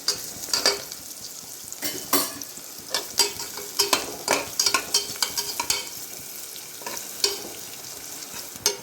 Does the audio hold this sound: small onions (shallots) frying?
yes